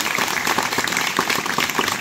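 Dense, steady applause from an audience at a school gathering, many hands clapping together at close range throughout the short burst with no voices over it.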